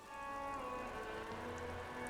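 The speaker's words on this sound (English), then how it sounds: "Rain falls onto the roof of a woodshed." Steady rainfall patters onto the roof of a woodshed in a yard in the game Disco Elysium, a soft, continuous wash of drops heard faintly and without pause.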